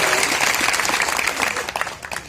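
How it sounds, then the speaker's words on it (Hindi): Applause from an audience at a Samajwadi Party meeting welcoming a former MP, dense and steady clapping that thins out toward the end, with a few voices faintly under it. "तालियां बजाकर स्वागत वंदन करने की सुविधा"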